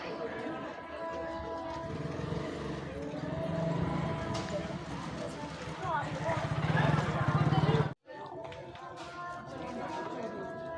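Cows run about in Antarvedi, their hooves clattering in quick, uneven beats under steady crowd chatter and voices. The sound cuts out briefly near the end.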